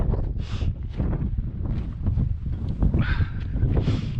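Gusty wind on a winter mountain trail in Utah's Red Mountain Wilderness, buffeting loudly and continuously across the microphone in uneven surges, with no talking.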